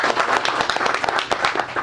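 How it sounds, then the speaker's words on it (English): An audience breaks into a short round of applause for an outgoing cabinet secretary at an official handover ceremony, with dense, steady clapping throughout. "round of applause for CS"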